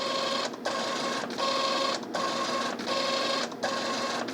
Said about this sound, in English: This printer certainly would be quieter than an old style impact printer